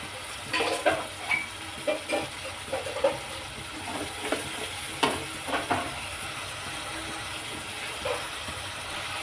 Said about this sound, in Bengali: তো এই মশলাটা একটু কষিয়ে নেব